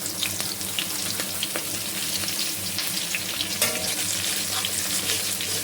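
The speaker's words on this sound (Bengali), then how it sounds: "একটু এখানে 5 ফোড়ন দিয়ে দিলাম, দুটো দিয়ে দিচ্ছি, কাঁচা লঙ্কা দিয়ে দিলাম 3টে" Panch phoron spices and green chilies fry in hot oil, crackling and sizzling steadily close up, with scattered sharp pops and spatters and faint clinks of stirring.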